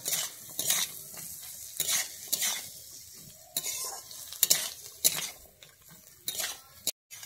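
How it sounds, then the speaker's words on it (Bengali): Garlic and ginger frying in a pan give a soft sizzle, while a utensil scrapes and stirs against the pan in scattered, close strokes. Quiet overall, with no talking. "আমি এখানে রসুন দিয়ে দিচ্ছি আর দিচ্ছি আদা দিয়ে আমি এবারে এটাকে একটু ভালো করে লাল করে ভেজে নেব।"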